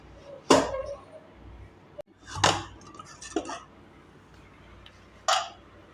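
A pressure cooker lid being opened after cooking jeera rice: several sharp metallic clinks and clatters spaced over a few seconds, close and fairly loud, with quiet gaps between them.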